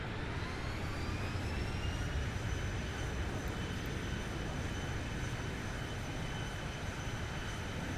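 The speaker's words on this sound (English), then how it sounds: "Engine sound as soon as we touch down." Steady, even engine roar from a simulated Boeing 737-800 on touchdown in X-Plane 11, a constant broadband rush with faint high whine, heard alone at a moderate level with no change across the stretch.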